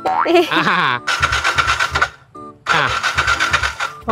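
A motorcycle's electric starter whirs and cranks in two loud, close bursts separated by a brief pause, without the engine catching, while people talk nearby.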